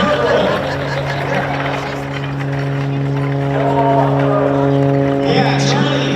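An aerobatic airplane's propeller engine drones steadily at high power during a torque roll at the Owensboro air show, a loud sustained tone with a slowly shifting pitch as people talk over it.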